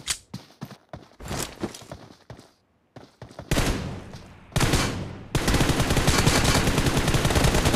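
Pistol gunfire in a competitive video game tournament match: a run of sharp single shots and bursts, first spaced and choppy, then a dense rapid volley that runs loud to the end, with no talk.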